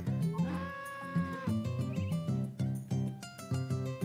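A farm animal bleats in Harvest Moon: A Wonderful Life, a wavering bleat over a bouncy, looping game music track that carries on throughout.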